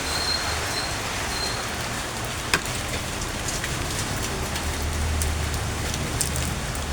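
Steady rain falls outdoors during an air rifle accuracy test, a dense even hiss with one sharp tick near the middle and no voices.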